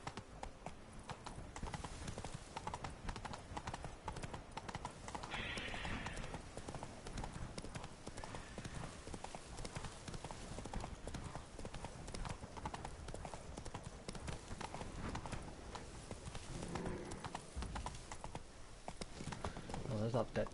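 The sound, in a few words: horse Roach's hooves in The Witcher 3 video game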